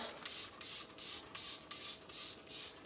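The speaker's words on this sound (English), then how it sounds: "I spray my floor" A spray bottle of cleaning solution pumps seven quick hissing bursts onto a floor in a steady rhythm, close and fairly soft, with no voices.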